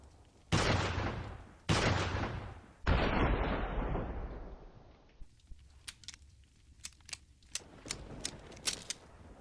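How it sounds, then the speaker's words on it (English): A Handcannon magnum in Resident Evil 4 fires three booming shots with long decaying echoes, followed by a series of sharp, lighter mechanical clicks and clacks. "let's test it out"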